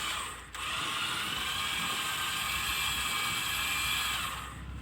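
Truck winch spooling its line back onto the drum, a steady whirring mechanical whine with a gritty ratcheting texture, starting after a brief dip and holding loud and even until it winds down at the end.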